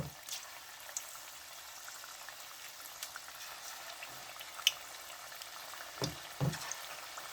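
Pieces of spicy honey chicken frying in hot oil give a faint, steady bubbling sizzle, punctuated by a few soft clinks and stirring knocks.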